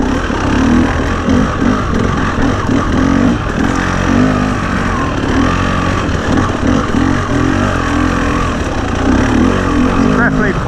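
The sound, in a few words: 2021 KTM 300 TPI motorcycle engine idling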